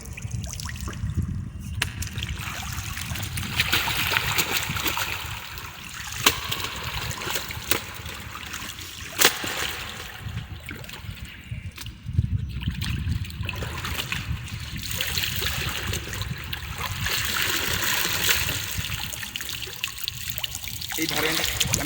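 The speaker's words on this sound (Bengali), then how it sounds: "প্রথমে কাপড়টাকে ধুয়ে নিতে হবে" Splashing and trickling water as a cloth is washed and wrung by hand, continuous and close, with someone talking over it.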